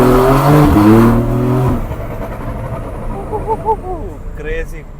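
A Stage 2 DME-tuned Porsche 911 pulls hard with rising engine harmonics that drop off sharply, followed by a quieter stretch of scattered exhaust crackles and pops under faint talk.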